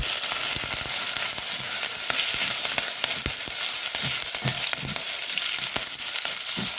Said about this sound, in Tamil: பூண்டு பழம் வரமிளகாயும் போட்டிருக்கேன் அது கூட கொஞ்சம் கருவேப்பிலை ஒரு கொத்து கருவேப்பிலை போட்டுருக்கேன்